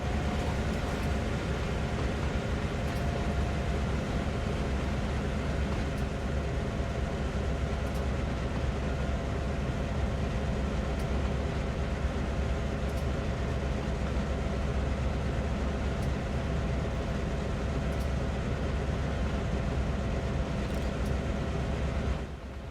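In Train Sim World 3, a CN freight locomotive on the Oakville Subdivision in a blizzard rumbles steadily with its throttle eased down, a continuous low engine drone and rolling rail noise with faint periodic clicks throughout.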